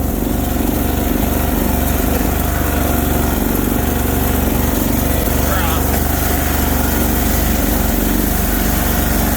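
Bolens Hydro Eliminator lawn tractor with a 20HP Briggs V-twin engine runs loud and steady at close range, a continuous uneven engine drone with a sticking choke and occasional backfires.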